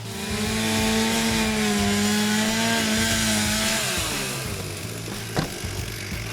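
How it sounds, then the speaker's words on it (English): A firefighter's power saw cuts through rafters in a panelized roof to open a ventilation hole. The loud, close engine whine holds steady and then falls in pitch as the blade bites into the wood, ending with a brief knock. "The sawyers will now cut through 2 rafters and then stop."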